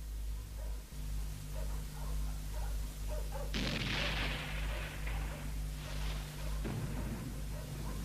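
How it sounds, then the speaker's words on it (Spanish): Two heavy cannon booms roll in from a distance, a few seconds apart, over a steady low rumble and hum. "Son cañonazos."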